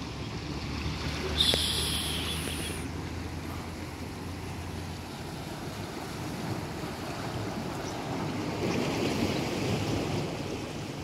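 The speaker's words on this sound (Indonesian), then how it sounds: "Ombak lumayan sedikit besar" Steady rushing sea surf with wind buffeting the microphone aboard a ship bound for Sabang, continuous and fairly loud, with no talking.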